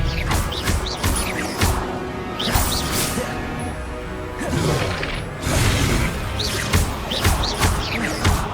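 Spellcasting in the video game Hogwarts Legacy fills the scene with dense, loud magical whooshes, crashes and impacts that run on continuously, with no voice heard.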